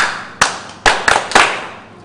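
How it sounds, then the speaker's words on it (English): Children clapping during a classroom lesson, four sharp separate bursts of hand claps spaced unevenly, close and fairly loud, with no talking. "Clap for Shelley."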